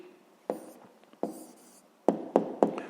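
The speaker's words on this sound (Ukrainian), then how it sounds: "Ну що ж, запишемо напевно відповідь." Someone writes an answer by hand while solving a fifth-grade maths exercise, with several short scratchy strokes in bursts separated by brief pauses, close and clear with no speech.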